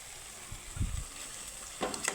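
Potato dropped into a pan of well-fried spiced masala sizzles and crackles softly, with a few brief stirring thumps and a quiet frying hiss underneath, no voices.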